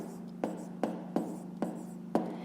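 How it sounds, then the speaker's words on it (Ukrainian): A pen writing numbers on paper during a fifth-grade math exercise, five short scratchy strokes at a steady pace, close and quiet over faint background hum. "І пишемо 2600 копійок"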